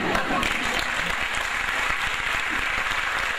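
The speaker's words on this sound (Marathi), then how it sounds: "टाळ्या अगदी हळू वाजतात" An audience applauds at the Mrunmayee award ceremony in Pune, a steady dense wash of clapping hands that stays loud and even throughout, with a voice faintly mixed in.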